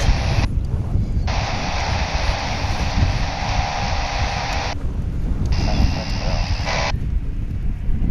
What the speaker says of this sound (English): Here's Delta Flight 1666. It's an A220 on its way to Salt Lake City.